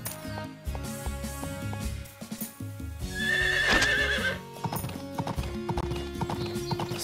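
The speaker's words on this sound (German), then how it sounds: "mein Pferd ist jetzt da." In Story of Seasons: Pioneers of Olive Town, a horse arrives with steady clip-clop hoofbeats and a bright whinny, set against light game music.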